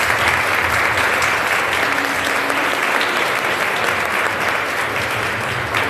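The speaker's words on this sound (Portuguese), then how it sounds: "Uma salva de palmas, nosso Padre." Congregation applauding the priest during Mass in a church, a steady, dense wash of many hands clapping at close range that carries unbroken through the clip.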